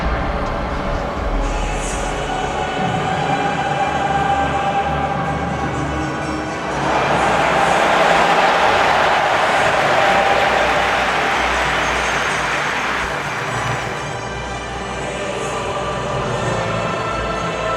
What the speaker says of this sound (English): The noise is quite something.